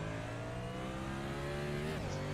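A race car engine in a sim racing game at Michigan drones steadily at high revs, then its pitch dips and shifts briefly near the end.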